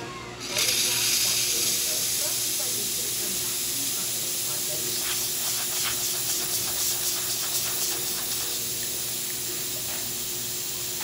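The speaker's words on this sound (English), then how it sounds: "Let's test the steam." Steam wand on a La Pavoni espresso machine hissing steadily and loudly from start to end, a continuous broadband rush with faint gurgling flutters partway through.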